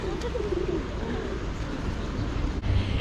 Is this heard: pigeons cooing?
yes